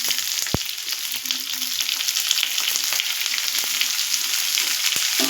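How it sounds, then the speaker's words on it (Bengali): Onions sizzling loudly in a pan for soya chili, a dense, bright frying hiss with small crackles throughout and a single sharp knock near the start, close up with no voices. "এবার আমি পেঁয়াজগুলো এর মধ্যে দিয়ে দেবো।"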